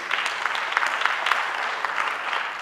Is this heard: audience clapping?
yes